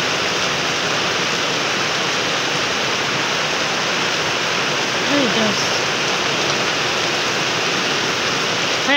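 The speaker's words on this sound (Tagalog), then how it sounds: "Napakalakas ng ulan." Heavy rain pours down steadily as a dense, continuous roar, loud and close, with a voice briefly exclaiming near the end.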